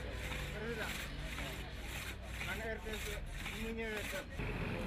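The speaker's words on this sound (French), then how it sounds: "Le mouvement est réfléchi, cadencé par le binôme qui tâte de la scie depuis plus d'une dizaine d'années." Two men work a long hand saw through a misshapen wooden log in an artisan village workshop in Guédiawaye, a Dakar suburb, producing a steady rasping, back-and-forth rhythm that is loud and close and continues throughout.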